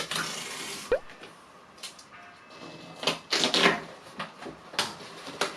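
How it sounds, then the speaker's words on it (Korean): Packaging of a Ketoscan breath ketone meter being torn and handled, giving scattered crinkly rips and rustles with a sharp thump near the start and louder tearing bursts midway, close and fairly quiet. "상품을 한번 뜯어볼까요?"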